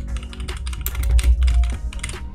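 A computer keyboard being typed on to enter a name during Windows PC setup, with a fast, irregular run of close, crisp key clicks over a low background hum.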